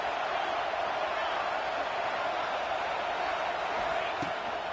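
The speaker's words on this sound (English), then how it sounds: "This crowd bringing the energy and noise early" Stadium crowd at a football game, a steady roaring wash of cheering and noise filling the whole stretch, with a faint commentator voice beneath it.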